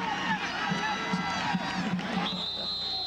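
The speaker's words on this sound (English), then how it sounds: "some boos and other comments coming from the crowd right in front of us who don't quite agree with that call" Crowd noise fills a college football stadium during a Boise State at San Jose State game, a steady mass of voices reacting to a call from the stands close by, loud and continuous with no single voice standing out.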